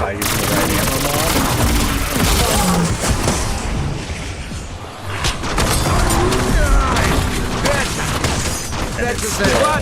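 Rapid gunfire in a zombies video game, dense automatic bursts and booms filling nearly ten seconds with barely a pause, loud and close, with a voice talking over it.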